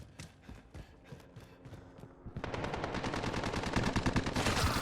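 Rapid automatic gunfire in the video game Modern Warfare 2019, sparse shots at first and then a dense, loud, continuous burst of rounds filling the second half.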